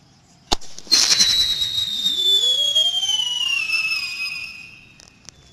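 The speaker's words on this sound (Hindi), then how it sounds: "अब हम ये डिंगडोंग वाले स्काई शॉट को जला के देखते हैं कैसा चलता है।" A ding-dong sky shot firecracker goes off with a sharp crack, then a loud, close whistling screech that slides in pitch for about four seconds before fading, with another short pop near the end.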